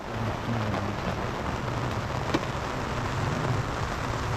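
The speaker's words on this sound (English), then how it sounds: "As soon as we began packing, the rain started." Steady rain falling on a campsite during a bikepacking trip, a dense continuous patter on surfaces with a low rumble beneath, close and fairly loud, with no voices over it.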